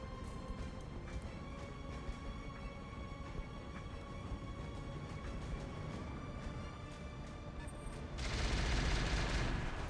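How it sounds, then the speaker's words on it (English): Mortar and weapons fire in the mech combat game Roguetech, a BattleTech mod, rumbling as a steady dense crackle of distant shots, then swelling into a louder, heavier blast near the end. "Oh great, more mortars."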